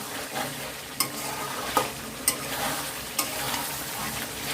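Chicken masala is stir-fried in oil for bhuna khichuri, giving a steady, fairly loud sizzle broken by several spaced clicks of a spoon stirring against the pan.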